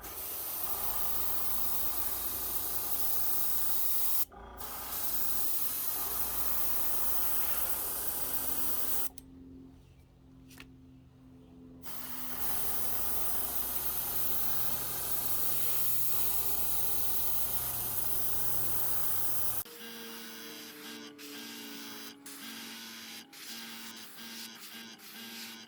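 An airbrush or spray gun hisses in long, steady bursts while painting a fishing lure, broken by brief pauses and a shift in tone near the end, close and continuous.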